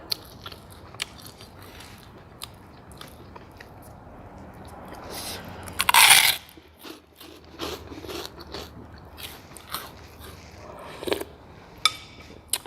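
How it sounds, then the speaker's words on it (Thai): Crispy fried pork rinds are crunched close up, eaten with Thai pork noodle soup: sharp, irregular bites and chewing crunches, with one loud crackling bite in the middle. "แคบหมูซื้อมาทอดเองกรอบ สุดยอด"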